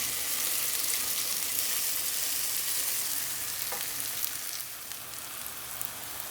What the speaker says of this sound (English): The onions are caramelizing away beautifully.